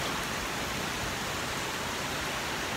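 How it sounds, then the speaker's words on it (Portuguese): Heavy rain pours down outside at 2 a.m., a dense, steady hiss that fills the whole stretch without a break and is heard alone. "Chuva que Deus manda."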